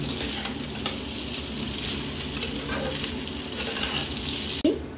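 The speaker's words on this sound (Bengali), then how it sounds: "দিয়ে ভালো করে চাউলটাকে মিশিয়ে দিলাম" Chowmein with red chilli sauce and chicken being stir-fried in a pan, a steady close sizzle and scrape of mixing running continuously, with a brief louder knock near the end.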